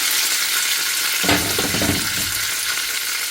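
Curry leaves and chilli flakes frying in coconut oil, a loud steady sizzle that flares briefly as something stirs through the hot pan midway, with no voices.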